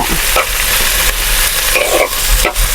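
Loud, close stirring of a mutton masala with tomato and curry leaves in a pan: a dense, constant sizzle with a few spatula scrapes across the metal.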